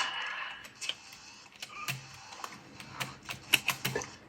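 Uneven keystrokes on a worn Power Mac G5 keyboard, a run of sharp clicks and taps at close range with irregular rhythm, growing busier toward the end, with no talking over them.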